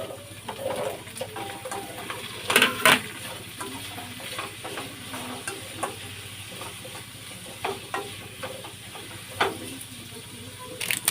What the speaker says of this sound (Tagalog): pag nagisa na natin itong bawang sibuyas, ilagay na natin itong kalabasa